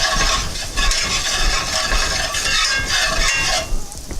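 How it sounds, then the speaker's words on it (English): Leftover spaghetti with garlic and herbs gets stirred in a pan on the stove, giving close, loud scraping and sizzling that runs continuously for several seconds with no talking. "I'm going to give that a stir."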